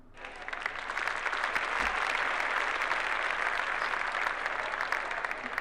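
Steady applause from a crowd in a video game, a dense wash of clapping that holds at an even level for several seconds with no voices over it.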